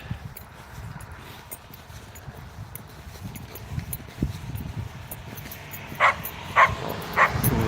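Small dogs yip and bark a few times in short bursts toward the end, over faint outdoor background noise.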